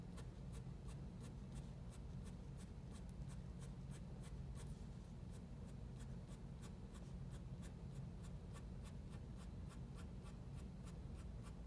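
Pencil sketching arm hairs on paper: steady, rapid rhythmic strokes scratching close up, evenly spaced flicks repeating throughout without any talking.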